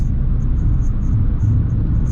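A 2024 Mitsubishi Colt small car taken quickly through a set of bends at 110, with heavy steady road and engine rumble filling the cabin, loud and unbroken, plus faint light ticks above.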